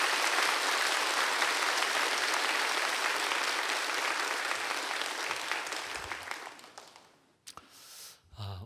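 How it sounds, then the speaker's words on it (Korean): A church congregation at an anniversary revival meeting applauds to welcome pastor Kim Byung-sam. The dense, sustained clapping fills the room and then fades out, followed by a few faint sounds. "우리 큰 박수로 환영합니다."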